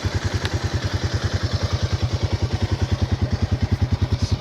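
A Jeep Wrangler Rubicon engine runs through its factory exhaust, a steady, fairly quiet low throb with even rhythmic pulses and no revving, heard close and alone.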